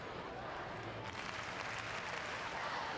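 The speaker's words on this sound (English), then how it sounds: "Crowd's getting into this competition now." A packed arena crowd applauds and cheers at the 2007 Pan American Games men's gymnastics all-around final, a dense continuous roar of clapping that holds steady and swells slightly throughout.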